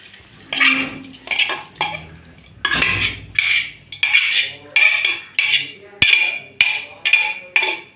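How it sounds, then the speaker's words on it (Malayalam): Beef curry with spices being stirred in a pot, a series of about a dozen clattering spoon-against-metal scrapes in an uneven rhythm, close and fairly loud, with no talk. "ഞാൻ നല്ലോണം ഇളക്കി കൊടുക്കണം കേട്ടോ"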